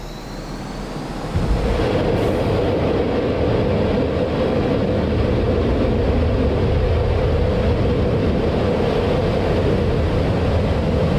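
MiG-29S jet in the DCS flight simulator accelerating down the runway on takeoff, a steady loud engine roar and rumble that swells after the first second and holds without letup.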